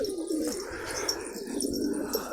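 A pigeon coos in a loft, a low, steady, throaty cooing close by over a soft, continuous background hum.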